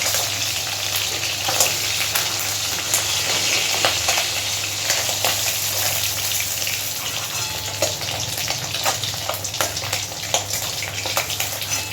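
Koi fish fry lightly in hot oil in a pan, a continuous close sizzle and crackle with scattered sharper spits and pops, and no talk.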